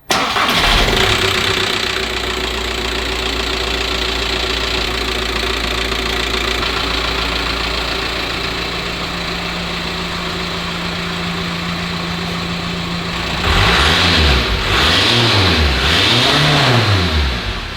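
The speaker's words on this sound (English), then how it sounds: "the last thing we need to do is start the engine, see if she leaks" A VW T5 van engine, fitted with a new stock-style exhaust system, cranks and catches, settles into a steady rumbling idle, then revs up and down in three rising and falling surges near the end.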